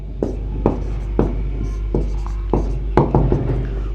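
Chalk or marker writes a solution on a classroom board, giving a series of close taps and short scratchy strokes over a steady low hum, with no talk.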